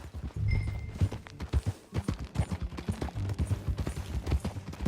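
Steady clip-clop of horse hooves on hard ground in Red Dead Redemption 2, a brisk rhythmic trot close by, with faint background ambience and no talking.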